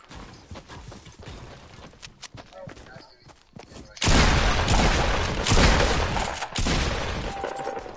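Shotgun blasts in a video game boom loud and close, a dense volley after a stretch of scattered thuds and footsteps, with voices talking over it.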